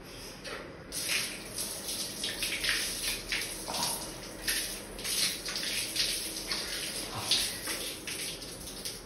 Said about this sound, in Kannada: ಕೈ ತೊಳಿಬೇಕು ಇವಾಗ.